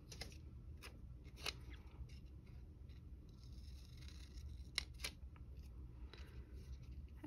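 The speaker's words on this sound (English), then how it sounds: "I'm going to just cut off this shopping list thing." Scissors snip through a paper planner's shopping list page in several faint, brief cuts over a quiet background.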